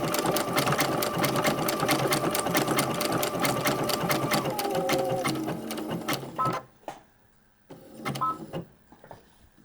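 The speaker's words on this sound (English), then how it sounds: "we're just going to stitch off slowly" A sewing machine stitches a vintage quilt with a wing needle, running loud and steady with a rapid even needle rhythm for several seconds, then slowing to a stop with a few short final bursts of stitches.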